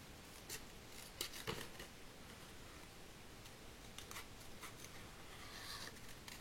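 Scissors cutting out Joyeux Noël paper lettering for a Christmas box craft, quiet close snips and crisp paper rustles in an irregular series, faint throughout with no talk.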